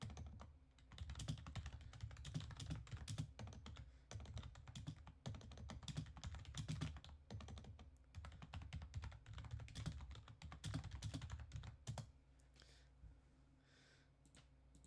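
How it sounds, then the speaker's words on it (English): Steady, busy typing on a computer keyboard for about twelve seconds, dense clicking keystrokes close to the microphone, then stopping and leaving quiet room tone near the end; no one talks. "I'm typing on Discord."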